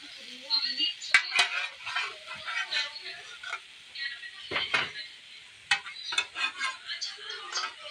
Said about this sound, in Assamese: এয়া মই এতিয়া সিজাই থোৱা মেগীখিনি তাতে দি দিম